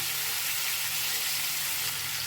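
A vegetable curry of drumsticks, potato and bori sizzles steadily in a hot pan after salt goes in, a continuous close frying hiss with faint stirring and no voices.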